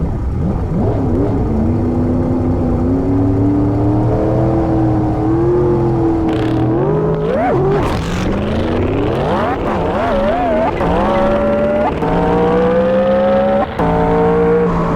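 A turbocharged race car of roughly 600 horsepower, turbo set to 10%, accelerates hard: a loud, continuous engine roar that climbs through the gears in rising sweeps with brief dips between shifts, close and without talk.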